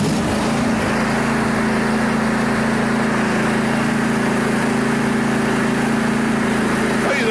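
An engine warms up and idles in 20-degree cold, a steady, droning hum holding a constant pitch throughout, close and fairly loud.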